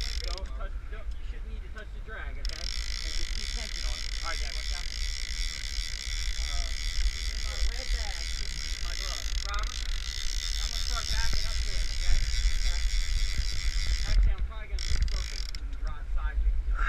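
Outrigger reel being cranked up aboard a Sea Hunt 30 sport-fishing boat while marlin fishing, a steady buzzing, whirring mechanism running continuously over a low engine rumble, with people talking nearby.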